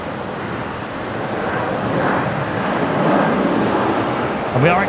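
Jetstar Airbus A320 arriving from Melbourne at Brisbane Airport, a broad, steady roar of jet engines holding level for several seconds with a voice faintly underneath.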